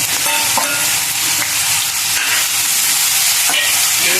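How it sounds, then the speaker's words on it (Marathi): Ground masala paste frying for a fenugreek (methi) curry, a loud, dense hiss of sizzling oil that stays constant and close, with faint stirring scrapes mixed in. "छान फ्राय करून घ्यायचं मस्त"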